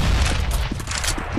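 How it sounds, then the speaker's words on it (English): A flashbang grenade goes off in Counter-Strike: Global Offensive during a competitive match, a loud, dense burst of game noise with bright crackling hiss sustained through the moment. "Throwing flashbang."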